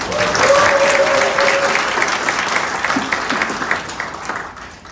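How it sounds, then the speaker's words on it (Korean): A church congregation gathered for an end-of-semester service breaks into applause, a dense, fairly loud burst of clapping that tapers off over a few seconds. "그래서 위에서 한번 박수해 주시면"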